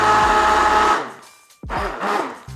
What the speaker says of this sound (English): I like to use an immersion blender to blend everything up before I freeze it